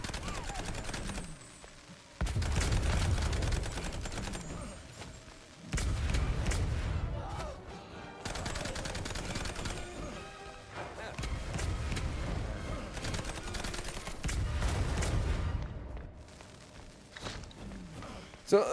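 A Tommy gun in the video game Mouse PI fires in long sustained bursts of rapid automatic shots, separated by brief pauses, loud and dense, with game effects layered around it.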